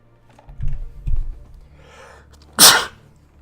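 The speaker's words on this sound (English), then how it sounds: "I'm about to sneeze." A single loud, sharp sneeze bursts out near the end, after a couple of soft low thumps and a faint hiss.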